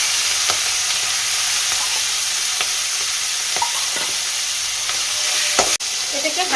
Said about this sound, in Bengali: এবার প্রথমে আমি তেলটাকে ভেজে নেব।